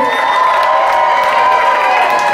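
A nightclub crowd at the Showgirls drag show cheers loudly and steadily for a drag performer, dense applause and whoops filling the room without a break, close and sustained.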